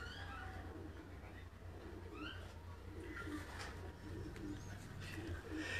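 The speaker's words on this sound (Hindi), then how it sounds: "ये जो कबूतर हाजी साहब आपको दिखा रहे हैं" Kasuri pigeons coo on a rooftop in Quetta, soft low repeated calls close by over a steady background hum, with other birds chirping faintly.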